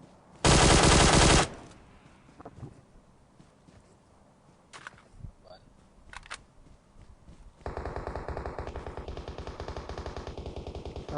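Automatic rifle fire in the battle royale game PUBG Mobile on the Sanhok map: one loud sustained burst, scattered footsteps and small clatter, then a long run of rapid gunfire from a second weapon.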